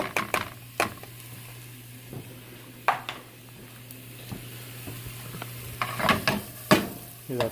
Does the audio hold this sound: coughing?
no